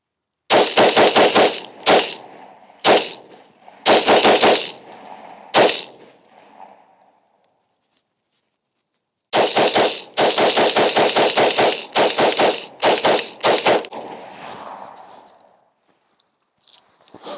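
An AR rifle fitted with a Caldwell brass catcher fires 30 rounds at an outdoor range, loud rapid strings and bursts of close gunshots with brief pauses, then a long gap before a second run of rapid fire.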